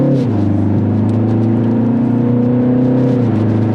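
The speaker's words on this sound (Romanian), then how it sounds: "se vede că e sunet în box, e artificial, asta nu e evacuare" Artificial engine sound from a BMW 330i xDrive M Sport, played through the car's speakers, holds as a steady synthetic drone with a loud, even hum that dips slightly near the start and the end.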